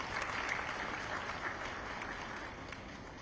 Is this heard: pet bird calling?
no